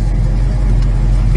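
A 1968 Plymouth GTX on the road, its engine giving a steady, loud low rumble with constant road and cabin noise and no talk over it.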